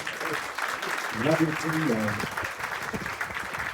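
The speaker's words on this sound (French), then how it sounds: "donc Jean-Michel Dumont, Nathalie Toulousan, qu'on peut applaudir." Audience applause at the opening ceremony of the Lire sur la Sorgue 2025 festival, steady clapping filling the room with a voice speaking over it partway through.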